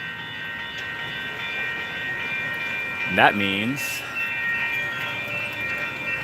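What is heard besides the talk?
train passing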